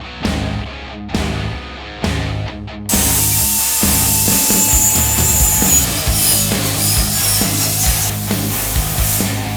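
A tool cuts through the B pillar of a Jeep JK for Mopar half doors. It begins with three short rasping strokes, then becomes a loud, continuous grinding cut that stays close, with no speech.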